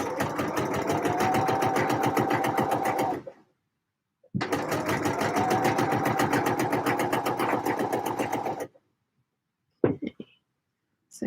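Sewing machine edge stitching with a blind hem foot as a guide, two long runs of rapid rhythmic needle clatter and motor hum separated by a pause, then a few soft handling knocks.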